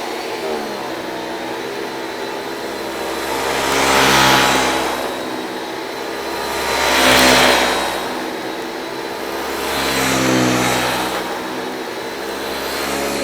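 A 1979 Hoover Celebrity IV canister vacuum cleaner runs steadily and close by, its motor drone swelling three times in slow, even surges, likely as the nozzle passes back and forth, with no talking.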